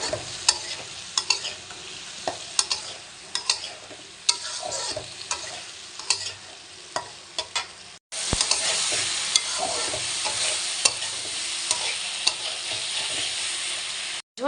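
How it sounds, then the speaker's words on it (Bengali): Spices sautéing and being stirred in a pan for a Bengali fish curry, with spoon scrapes and clatters over a steady sizzle that swells much louder partway through, no talking. "মশলাগুলো সব কষাই নিচ্ছি ভালোভাবে।"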